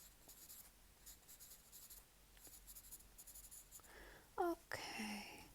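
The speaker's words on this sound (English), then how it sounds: "I'll write that down for you" Soft pen-on-paper scratching in quiet, close strokes with short pauses, ending with a brief faint voice.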